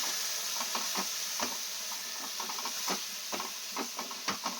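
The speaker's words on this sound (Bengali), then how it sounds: "আর এইটা একটু নাড়িয়ে নিচ্ছি পেঁয়াজটা" Onions sizzle and hiss steadily in a hot pan while a utensil scrapes and knocks against it in irregular stirring strokes.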